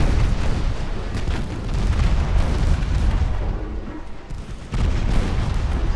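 A torpedo strikes an enemy ship amidships in a naval strategy game, producing a loud, sustained rumbling explosion with layered blasts that dip briefly before a fresh heavy burst near the end.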